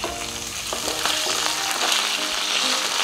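Aloo and ivy gourd (dondakaya) fry in a pan, crisping in oil with a steady, bright sizzle throughout and occasional stirring scrapes, close and fairly loud.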